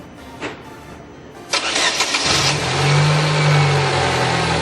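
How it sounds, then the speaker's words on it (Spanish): A car engine cranks and catches after a few clicks and a brief starter whir, then settles into a loud, steady idle close by; the engine is fitted with Hall-effect crankshaft and camshaft position sensors. "Vamos a echar a andar el motor"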